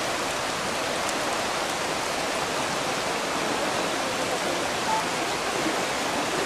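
Floodwater rushes through a swollen river in Hermanas Mirabal province, Dominican Republic. A loud, steady roar of churning water holds without pause for the whole stretch, with no voices over it.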